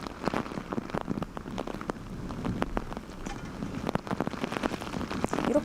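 Typhoon rain pours down hard and steadily, drops spattering on surfaces close by amid gusts of wind.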